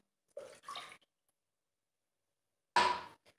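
Warm milk is poured into a bowl in two short splashing bursts separated by silence, the second louder and fuller than the first.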